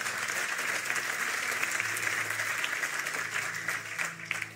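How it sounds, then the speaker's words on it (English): A church congregation claps their hands in a steady, dense round of applause that holds at an even level throughout. "Let's give the Lord a hand clap."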